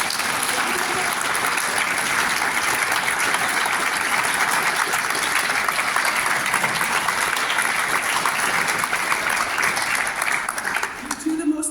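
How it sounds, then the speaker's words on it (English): Sustained, dense applause from a conference audience fills the room at close range and holds steady for nearly twelve seconds before thinning slightly at the end. "And now you can applaud."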